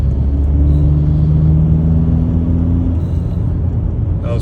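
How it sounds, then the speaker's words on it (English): VW ALH TDI diesel car accelerating hard through the gears, a loud, steady in-cabin engine rumble with a droning tone that climbs and then drops away. "So we're gonna do some pulls."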